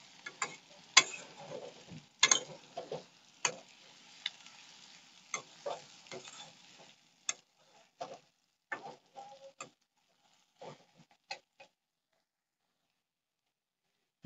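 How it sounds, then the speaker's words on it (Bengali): Onions frying in a pan for a home-cooked duck meat curry, with a soft sizzle under a series of sharp clicks and scrapes from stirring that thin out and stop toward the end. "এতক্ষণ প্রায় পেঁয়াজ ভাজা"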